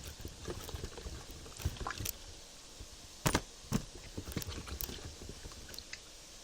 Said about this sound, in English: Get these taters washed up.